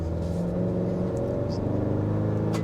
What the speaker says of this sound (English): Let's check out the acceleration up this hill